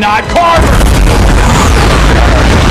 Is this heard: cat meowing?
no